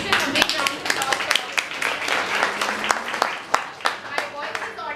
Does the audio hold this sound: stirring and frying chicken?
no